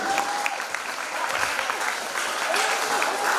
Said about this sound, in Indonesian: Kita beri tepuk tangan untuk paslon 1.